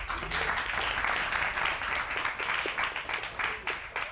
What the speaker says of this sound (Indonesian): Tepuk tangan untuk Kak Nurul Mustafa.